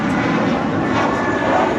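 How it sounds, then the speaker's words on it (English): A JetBlue Airways A320 departing Los Angeles International Airport for Cancun gives a loud, steady jet roar that holds evenly throughout with no talk. "That is JetBlue Airways 1570 departing to Cancun on an A320."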